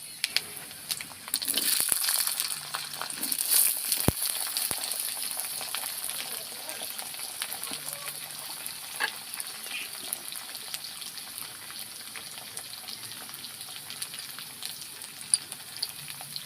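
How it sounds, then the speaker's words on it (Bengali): Potatoes frying in hot oil with black cumin give a soft, steady sizzle with faint crackles and an occasional clink of a utensil in the pan. "তেল গরম হয়ে গেছে, আমি কালো জিরে দেবো। আলুগুলো ভেজে নেব।"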